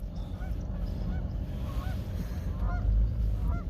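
Geese honk repeatedly from a distance outdoors near a frozen-over pond on a cattle farm, several overlapping calls over steady low wind rumble.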